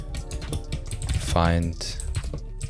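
Quick clicking keystrokes on a computer keyboard pattering irregularly beneath a voice as a command is typed.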